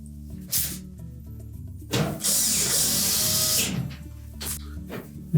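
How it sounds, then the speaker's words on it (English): A power screwdriver drives retaining screws into a Whirlpool dryer's back panel, giving a steady whirring run of about two seconds framed by short clicks and clunks of handling. "Reinstall the retaining screws on the bottom."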